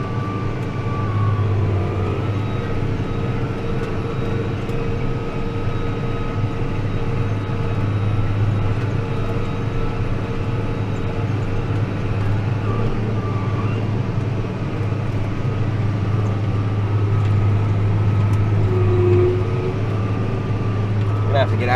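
A New Holland T8030 tractor engine heard from inside the cab on a ride along to mow field waterways, a loud, continuous low drone that stays steady throughout.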